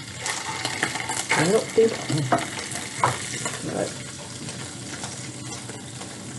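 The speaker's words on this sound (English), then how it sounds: "All right, y'all get ready for the sizzle." A hot dog fries in a pan for a sandwich, giving a steady crackling sizzle broken by a few sharp clinks and scrapes, while a person says a few words in the middle.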